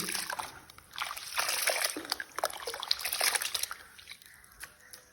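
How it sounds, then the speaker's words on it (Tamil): Water sloshing and trickling as rice is swished and rinsed by hand in a bowl of water, with irregular splashes and dribbles close by. "அந்த அரிசியை கழுவ வேணும்"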